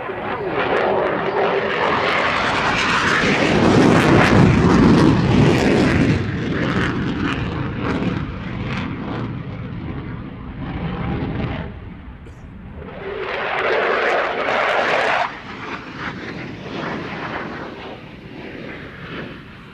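An F-16 fighter jet flies a display demonstration under a low cloud ceiling, a loud roaring jet rumble that swells, fades and surges again, with a commentator talking over it.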